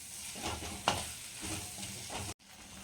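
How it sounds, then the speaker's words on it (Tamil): Tomatoes sauté in a pan for a village-style sundakkai vathal kuzhambu, a quiet close sizzle with a few stirring scrapes and one sharp tap, then cutting off abruptly. "தக்காளி நல்லா வதங்கட்டும்"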